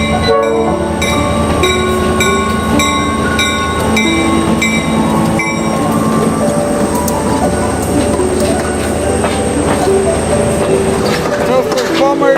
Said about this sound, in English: You got this tourist train here in Cumberland coming out of the canyon.